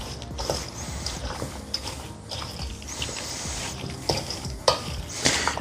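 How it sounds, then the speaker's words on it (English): Potato salad being stirred with diced bacon in a bowl, a steady close-up scraping and mixing with irregular soft clicks and squelches, no talking. "and now we can mix it all together."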